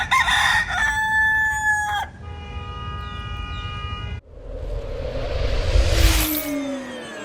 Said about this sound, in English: And there will be roosters at these Superchargers.